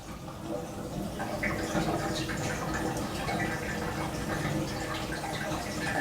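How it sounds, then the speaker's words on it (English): Water rushing down through a KES bathroom sink drain, a steady broadband gurgling wash with faint drips, continuous and fairly close for about six seconds. "All right, it drained pretty fast."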